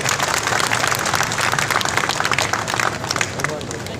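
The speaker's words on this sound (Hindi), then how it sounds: "तो उनके लिए कृपया तालियां बजाइए" A crowd at a cooperative society's honour event claps in tribute to a fallen martyr, a loud, dense and sustained burst of many hands that eases slightly toward the end, with murmuring voices mixed in.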